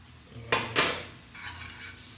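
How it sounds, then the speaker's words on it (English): Whisk working through besan halwa mixture in a metal pan, two sharp clanking strokes followed by softer scraping, close and brief. "Maybe this is a good time to use whisk to sort of blend everything in together."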